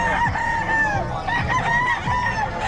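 Several young chickens call and cluck close by, with clear repeated rooster-like crowing phrases and hen clucks layered over one another in a busy farmyard coop.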